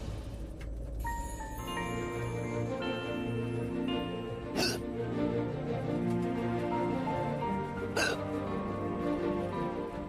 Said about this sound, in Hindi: वो आपको हिचकी आ रही है?